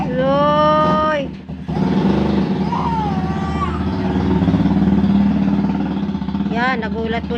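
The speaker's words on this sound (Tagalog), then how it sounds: "nagulat po siya dun sa motor na dumaan. Ang lakas-lakas naman po ng ugong." A loud motorcycle passes close by, its engine a steady low drone lasting several seconds, partly masked by a person talking and cooing over it.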